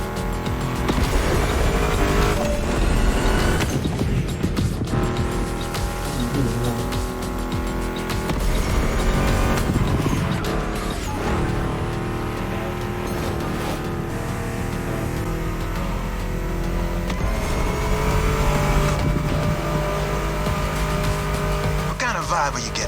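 A Ford Mustang GT muscle car engine roars continuously in a racing video game, loud and close, with revving, shifts and tire squeal, mixed with background music riffs.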